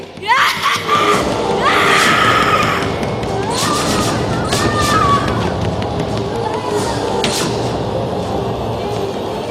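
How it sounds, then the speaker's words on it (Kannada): Students staging a Kannada mythological drama at a school festival in Udupi produce loud overlapping screams and crowd-like commotion, with shouted cries and babble sustained throughout and sharp vocal bursts rising above a dense stage din. "ಕಲಲಾಟ, ಚೀರಾಟ"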